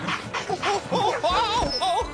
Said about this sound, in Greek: Κύριε Κύριε Μπέντλεϊ, σταμάτα να παίζεις με το σκύλο